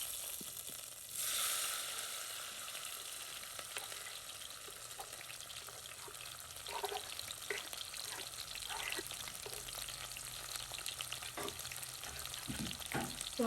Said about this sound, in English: So I'm going to put in my seasoning at this time.